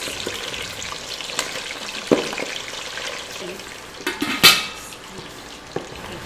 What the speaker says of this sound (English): The sound of pork popcorn, which is pretty much what bagnet is.